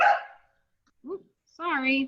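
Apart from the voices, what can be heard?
Australian cattle dog barking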